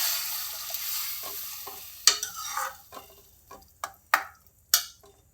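Tomato gravy with added water simmering in a pan for dhaba-style tomato sev bhaji, a steady soft sizzle and bubbling broken by several sharp stirring clacks and scrapes of a spoon, close and alone with no talk.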